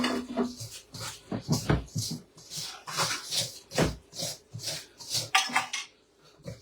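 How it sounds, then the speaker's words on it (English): Eggs whisked briskly in a bowl, a close, rhythmic run of clinking strokes rising and falling in quick repeated bursts. "And then I'm going to just whisk this up."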